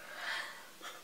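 A person yawns once, a soft breathy stretch rising then tapering off, with a fainter second exhale near the end, close and quiet with no talking.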